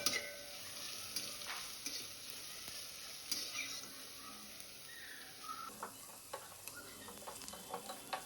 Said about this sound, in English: Stir continuously until onion color transfer to